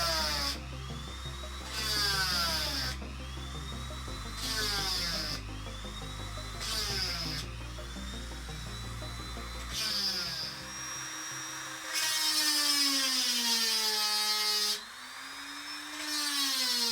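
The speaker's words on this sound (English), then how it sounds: "I might have to get the Dremel out immediately because those screws have absolutely had it." A Dremel rotary tool grinding off damaged screws on a Nintendo 3DS XL handheld console, a high whining buzz in repeated bursts of a second or two, pitch sliding as the bit loads and unloads, over a steady low hum.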